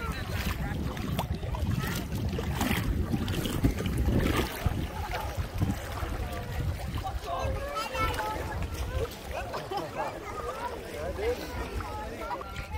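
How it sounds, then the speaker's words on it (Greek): Steady wind buffets the microphone with a low rumble, alongside lapping water and a boat's motion among sea rocks off Paros, while people talk intermittently throughout. "Έχει λίγο αέρα"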